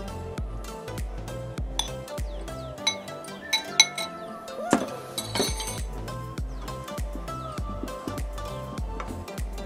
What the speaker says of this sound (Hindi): अब इसमें नारियल पाउडर और खोआ दोनों को हम डालकर अच्छी तरह से मिक्स करेंगे।